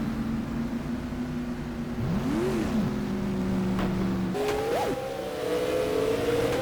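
Supermodified race cars at Oswego Speedway roar steadily throughout, with a rising and falling engine whine near the middle and a louder pitch shift as another car passes later, continuous and fairly close.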